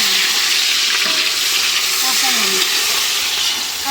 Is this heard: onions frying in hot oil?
yes